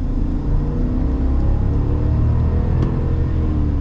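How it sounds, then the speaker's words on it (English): A 2024 Chevrolet Silverado ZR2 pickup with a 6.2-liter V8 accelerates, a steady loud engine rumble rising gradually in pitch, heard close from inside the truck with no talking. "let's get our acceleration here."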